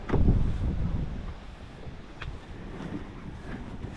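Strong wind buffets the microphone in heavy low rumbling gusts, loudest at the start and easing into a steady blustery roar.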